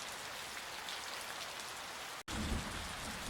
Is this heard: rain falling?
yes